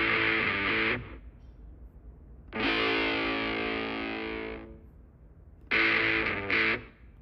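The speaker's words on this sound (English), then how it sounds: "The first one, classic distortion." Electric guitar with heavy classic distortion plays three separate sustained chords, each ringing out thick and gritty before cutting off, with brief silences between.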